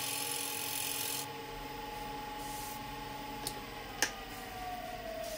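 A scraper tool cuts pear wood spinning on a lathe, giving a continuous rubbing, rasping scrape over the motor's steady hum, with a couple of sharp ticks and a changing tone as the cut shifts.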